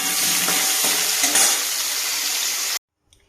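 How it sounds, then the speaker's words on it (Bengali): Cubed pumpkin pieces sizzling in hot mustard oil in a pan, a loud, steady crackling fry that stops abruptly near the end, leaving near silence. "এই কুমড়োগুলোকে একটু ভেজে নিলাম।"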